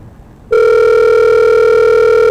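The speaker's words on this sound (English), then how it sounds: "And now we're calling McDonald's." Telephone ringback tone of a call to a McDonald's restaurant, a loud steady tone that starts abruptly after a half-second of quiet and holds alone to the end.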